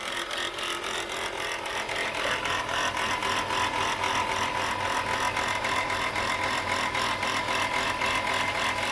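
A running car engine with a bouncing pulley gives off a constant loud mechanical whir and a fast, rhythmic ticking rattle, heard close up and unbroken throughout with no voices.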